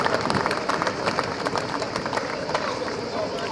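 At a veterans' water-jousting tournament, a crowd claps for the salute of honour, a dense, continuous patter of applause with crowd murmur mixed in, steady throughout.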